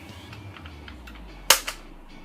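A Nerf Zombie Strike revolver fires one sharp, loud shot, quickly followed by a fainter second snap, standing out against a quiet background.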